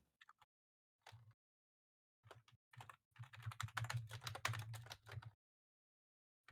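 Fast, aggressive typing on a computer keyboard: a few scattered keystrokes, then a dense, hurried burst of clacking, close and clear with no voices.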